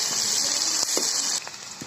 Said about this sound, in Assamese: ৰঙচুৱা হোৱালৈকে অকণ টাইম ভাজি ল'ম।